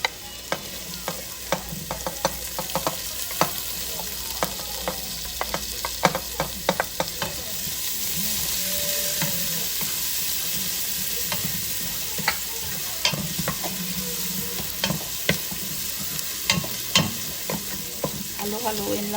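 Garlic sizzles steadily in a hot pan while a spoon scrapes and stirs it in irregular clacks over about twenty seconds, with no talking.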